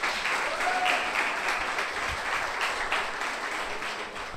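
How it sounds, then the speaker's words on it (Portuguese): Sustained audience applause greets a speaker being introduced at an arts masterclass about the Cambucor festival in Cumbuco, Ceará, a dense, steady clapping from a large crowd lasting the whole stretch without speech. "Uma salva de palmas."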